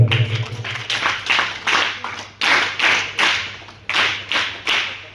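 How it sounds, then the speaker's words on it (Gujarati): Audience applause at a school music camp, with close, loud clapping rising and falling in several bursts of rapid hand claps and brief lulls between them. "તાળીઓ આપણે શરૂ રાખીશું।"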